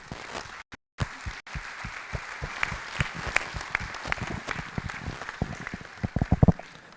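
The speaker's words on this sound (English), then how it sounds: "give a huge round of applause to all the panelists" An audience at a naval conference panel session claps for the panelists, starting as scattered individual claps after a brief silence and building into denser, sharper applause toward the end.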